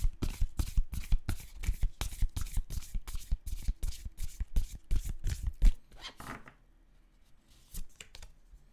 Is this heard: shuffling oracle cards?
yes